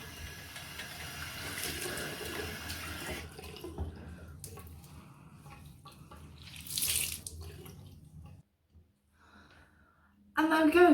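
Bathroom tap water running into a sink while a face is rinsed after cleansing, a steady splashing stream that stops partway, followed by brief splashes and a final gush.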